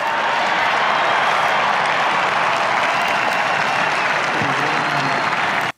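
A large outdoor crowd applauds and cheers during Donald Trump's inauguration speech, loud dense clapping and roar filling the whole stretch steadily before cutting off abruptly at the end.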